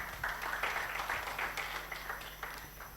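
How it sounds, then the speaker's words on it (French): Faint, steady applause from a conference audience clapping for a panel speaker at a pan-African AI leadership event, a soft patter of many hands lasting a few seconds. "Est-ce qu'on peut applaudir pour lui"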